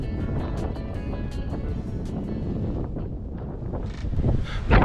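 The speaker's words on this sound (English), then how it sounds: "Blimey, it's windy out here." Strong wind buffeting the microphone at an outdoor nature reserve beside water, a continuous low roaring rumble that swells louder toward the end.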